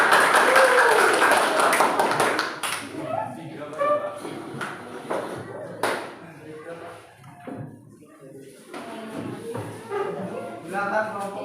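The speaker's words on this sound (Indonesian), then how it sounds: "Tepuk tangan untuk kelompok 2." A class audience gives applause to a student presentation group in a university classroom. A dense burst of clapping opens loud, then thins into scattered claps beneath voices talking in the room.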